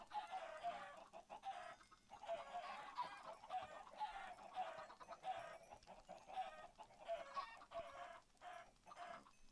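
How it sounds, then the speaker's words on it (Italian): Chickens clucking in Minecraft, with repeated short clucks from several birds over a quiet background. "Troppi! Via polli! Via!"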